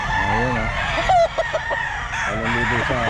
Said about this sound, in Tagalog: Ano bang klase yan manok na yan, sir?